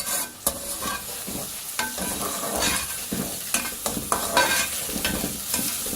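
Onions frying in a pan for a bhindi handi, a steady sizzle close up, broken by repeated scraping and stirring strokes at an irregular rhythm, with no voices.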